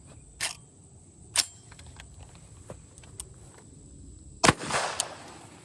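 A 338 ARC rifle fired outdoors: a sharp, sudden crack with a short ringing tail stands out near the end, preceded by a few fainter, clipped snaps against quiet background.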